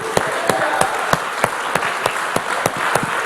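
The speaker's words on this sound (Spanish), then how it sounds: "dele palmas a esos varones" A church congregation claps in a steady rhythm, sharp regular beats about every third of a second over a low hum of crowd noise.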